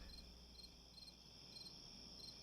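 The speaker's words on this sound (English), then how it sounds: "We need some crickets for all this" Cricket chirping sound effect, faint and steady, with repeated rhythmic high trills pulsing over a quiet background and no voices.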